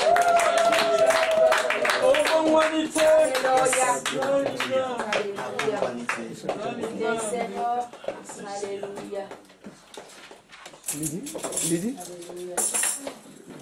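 A church congregation claps loudly and rhythmically during worship, the dense hand claps running under singing and voices throughout, briefly thinning before picking up again near the end.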